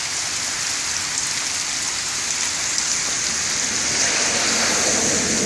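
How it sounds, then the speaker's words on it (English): Heavy downpour pounding steadily on surfaces around a flooding driveway and garage, a dense continuous hiss with no letup, loud and close throughout. "when it's raining really hard"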